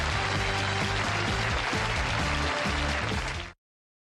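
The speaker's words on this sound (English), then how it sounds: "I'm humbled by that applause." Studio audience on a late-night television talk show applauds steadily and loudly, a dense wash of clapping with a rhythmic music cue underneath, running without talk until it cuts off abruptly.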